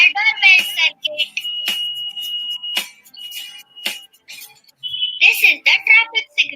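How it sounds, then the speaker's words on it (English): Short electronic tones beep and chime in bursts from a small doorbell circuit, with pauses between and brief voices near the start and end. "This is the doorbell circuit."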